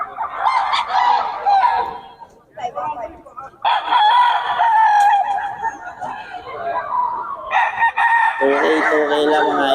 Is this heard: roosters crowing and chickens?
yes